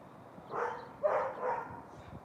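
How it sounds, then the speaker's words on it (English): A neighbourhood dog barks three times outdoors at night, moderately distant, in an evenly spaced sequence with no talking. "that's another dog in the hood"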